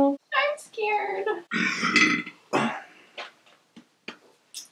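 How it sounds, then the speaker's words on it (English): A throaty burp after eating Bean Boozled jelly beans, heard as a few close, loud vocal bursts followed by short, fading grunts and breaths. "That could have been like a skunk spray tasting burp."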